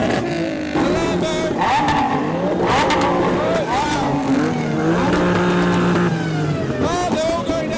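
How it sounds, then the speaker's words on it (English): Supercharged engines rev loudly during a rev battle among a Lamborghini and a 2JZ-powered Subaru, with a steady roar of rising and falling pitch throughout, crowd voices mixed in. "Wow, listen to that supercharger."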